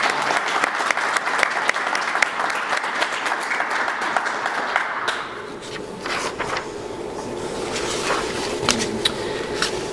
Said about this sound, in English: why don't we give another round of applause